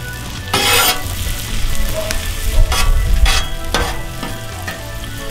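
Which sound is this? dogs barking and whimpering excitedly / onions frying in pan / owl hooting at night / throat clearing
onions frying in pan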